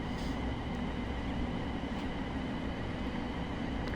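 Class 700 Thameslink electric train running in Train Sim World 6 on the South Eastern High Speed line, a steady low rumble of wheels and traction with a constant drone and no pauses.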